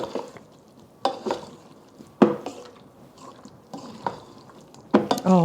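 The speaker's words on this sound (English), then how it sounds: "At this point, we're just gonna toss everything around." Mango avocado salad with ingredients being tossed in a bowl, giving soft wet squishing and a few sharp utensil clacks against the bowl at irregular intervals, close and moderately quiet.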